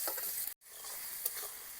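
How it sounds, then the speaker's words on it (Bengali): Onion and tomato fry in a pan with a faint, steady sizzle and occasional stirring scrapes, broken by a brief moment of silence. "এইবার এগুলোকে একটু ভাজা ভাজা করে নেব"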